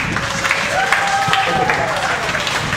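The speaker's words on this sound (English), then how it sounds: "Give a round of applause" An audience at a 2011 Mark Babino comedy performance gives a round of applause, steady clapping with a tonal sound sliding through the middle.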